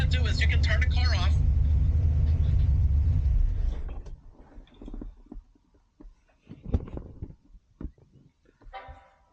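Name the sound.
Buick Grand National engine running then shutting off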